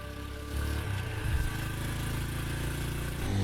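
A motorcycle engine runs steadily at idle, its low mechanical rumble rising slightly as it revs partway through, then holding a constant near drone to the end.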